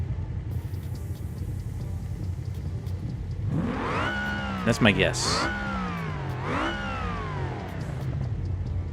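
Supercharged V8 race car in BeamNG.drive revving hard in several rising, wailing sweeps with a brief squeal, loud and close after a low rumbling idle, with someone talking over it.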